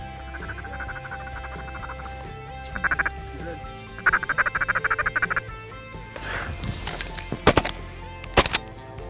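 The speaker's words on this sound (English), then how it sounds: "Those ducks are just bombing in that one little hole." Ducks come down into a small slough during a Saskatchewan goose hunt, with bursts of rapid quacking and squawking that build toward the end, mixed with sharp, clattering noises and a busy, close flock.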